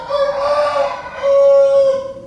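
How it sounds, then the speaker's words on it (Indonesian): A rooster crows in the morning, loud and close, one drawn-out call with a brief break in the middle and no other sounds around it. "Pagi hari ini ayam saya masih berkokok."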